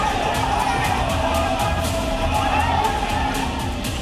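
A crowd clamours loudly at a bulldozer demolition, a continuous dense roar of many voices with occasional sharper shouts standing out.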